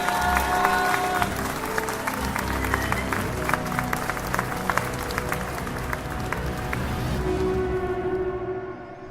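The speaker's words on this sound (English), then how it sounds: "Round of applause, please, Spencer Wilding." Applause from a studio audience after an interview with Spencer Wilding, steady clapping that runs across the clip, with some music tones at the start and a sustained tone near the end before it fades out.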